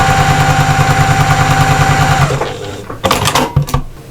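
A sewing machine stitches nine-patch quilt block seams with a fast, even mechanical chatter that runs for about two seconds and then stops. A few clunks and handling knocks of fabric and machine parts follow.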